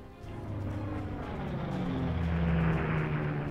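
Wartime bomber aircraft droning steadily on approach in the strategy game Panzer Corps, a low propeller-engine hum building slightly louder over a few seconds with no talk.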